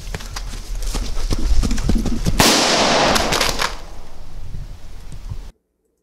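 A sharp, loud blast from a real gun firing a blank cuts through a busy scene of thumping and clattering noise, with a burst of broadband crackle that fades before sudden silence.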